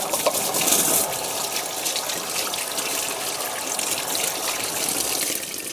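Hands are rinsed under a running kitchen tap while making pumpkin talam kuih before steaming: a steady, close gush of flowing water continues throughout with small splashing variations.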